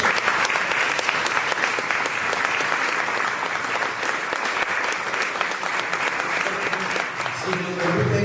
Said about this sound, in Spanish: me parece que se merece un aplauso